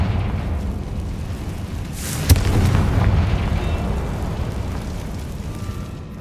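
A Confringo blasting curse explodes in Hogwarts Legacy as a single sharp bang with a rumbling boom behind it, set against a steady low roar that lingers for several seconds.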